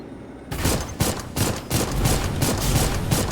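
A defensive nymph in the video game Dolls Nest fires a rapid barrage at the player, a dense run of loud, sharp bursts that repeat in quick succession, like a stuttering fusillade of gunfire.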